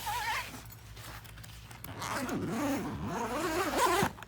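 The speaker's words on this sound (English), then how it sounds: "This zipper system zips down from the top here." A zipper on a small hyperbaric chamber is pulled down from the top in several long, rasping strokes, close by, growing louder and faster toward the end.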